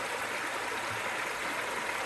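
Creek water flowing steadily, a continuous broadband rush and babble that is close and even throughout, with no voices over it.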